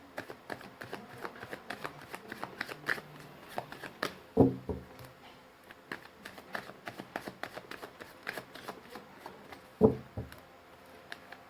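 Tarot cards are shuffled by hand in soft, rapid riffling bursts, with a couple of louder slaps or taps as the deck is squared, all close and fairly quiet.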